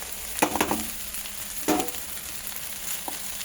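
Chow mein noodles frying in a hot wok give a steady close sizzle, with a few short bursts of louder crackling as the noodles are added and stirred.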